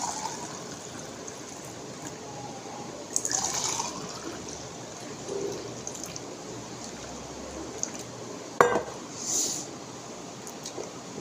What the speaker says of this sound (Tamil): இப்போ வந்து ரெண்டு கிளாஸ் வச்சுருக்கேன் இதில் ஊற்றிடலாம்